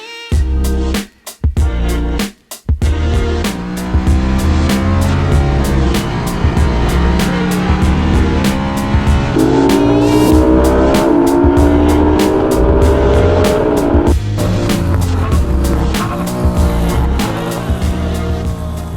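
An E30 BMW M3 track car fitted with a Drenth sequential gearbox runs loud and close, its engine droning with rising revs and gear-change breaks, along with a brief dip near the start.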